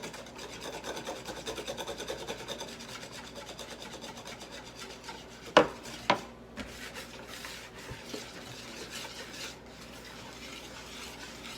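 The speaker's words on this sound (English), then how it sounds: "just using this good old whisk and beating the crap out of it" A wire whisk beats breakfast casserole mixture in a bowl, giving a steady close rasping scrape with two sharp metallic clanks against the bowl partway through.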